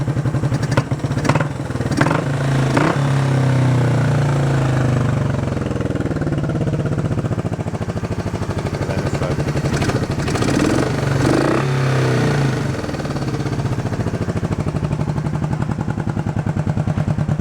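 A Honda CB350 motorcycle engine, not idling on one side and with a blowing muffler, revs up loudly several times with a rough, sputtering exhaust, rising and falling in pitch; someone says a few words briefly over it.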